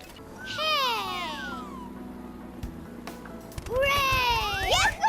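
A cat meows twice in a children's vehicle cartoon. Each call is a loud, drawn-out, wavering meow, and the second one is longer and rises at the end. Low background music plays between the calls.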